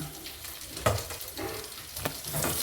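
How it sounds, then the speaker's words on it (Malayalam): Fish pieces drop into boiling fish gravy in a home kitchen, giving a close, steady sizzling bubble with a few sharper splashes as pieces go in. "അവിടെ മീൻ ഗ്രേവി തിളച്ചു നമുക്കിതിനകത്തേക്ക് കഷ്ണങ്ങൾ പെരക്കി പെരക്കി പെരക്കി ഇട്ട് കൊടുക്കാം"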